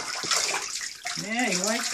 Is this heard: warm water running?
yes